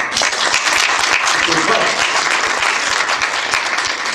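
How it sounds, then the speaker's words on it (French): Steady, dense applause from an audience at a press conference, loud and continuous throughout with a faint murmur of voices mixed in. "vous devez applaudir justement les femmes qui se battent"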